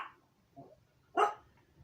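A pet dog gives a faint, soft whine followed by a single short, sharp bark in a quiet indoor room, heard alone without talk.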